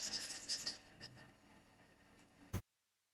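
Pen strokes scratch on paper while a math equation is written out by hand, a quiet, close series of short scrapes that ends with a sharp tap before silence.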